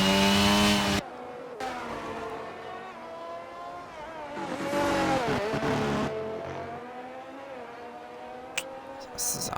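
Racing engines in a racing video game whine and rev loudly at high pitch as cars leave the pit lane for qualifying at the Canada round, several droning past in overlapping waves, with a brief shift in tone partway through.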